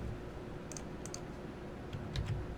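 Soft, sparse clicks of typing on a computer keyboard, a few scattered keystrokes heard faintly over a steady background hiss with no talking.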